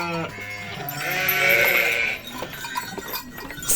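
Nearby sheep at the Emirdağ livestock market bleat in long, wavering cries, one overlapping another, followed by scattered rustling and quieter animal sounds.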